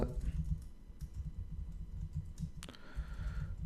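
Quick bursts of typing on a computer keyboard while entering text in Photoshop, soft close key clicks in an uneven run, with a sharper click near the end.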